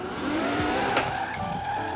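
A front-engined Ferrari drifts in the racing game Forza Horizon 4, tires squealing sideways over a revving engine, loud and continuous for a couple of seconds.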